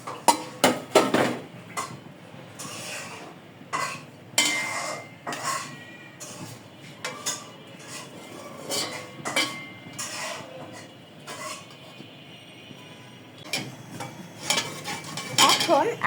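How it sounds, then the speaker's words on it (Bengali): A spoon scrapes and clinks against a pot of simmering milk for firni while lifting out whole spices and bay leaves, with repeated metallic taps and stirring over a low bubbling background. "তো আমি এখন এইখানকার মশলাগুলোকে উঠিয়ে ফেলছি তেজপাতা দিয়ে।"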